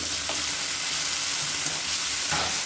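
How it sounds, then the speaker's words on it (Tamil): Steady, loud sizzling and frying of tomatoes sautéing in a hot pan for sambar, with faint stirring scrapes underneath and no voices. "தக்காளி நல்லா மசிகிற அளவுக்கு வதக்கி விட்டுக்கலாம்."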